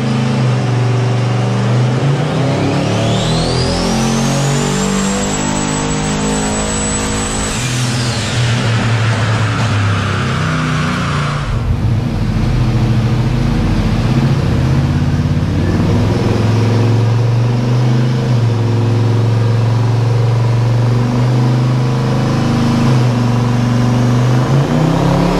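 A twin-turbocharged car engine running at about 16 pounds of boost, with an up-front intercooler, drones loud and close; its pitch climbs in a long rev, holds high with a whine, then drops back to a steady rumbling idle.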